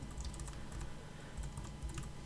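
Fingers type a keyword on a computer keyboard, quick soft clicks in short irregular bursts, close and fairly quiet.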